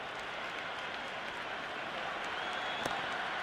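Cricket stadium crowd at the India vs New Zealand T20 World Cup final, a broad, sustained roar with scattered applause, heard from a distance, with a commentator's voice faintly under it.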